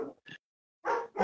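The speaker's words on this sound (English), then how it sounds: "That's your doggy." A small dog gives a few short, faint barks and yips spaced apart, close by with quiet gaps between them.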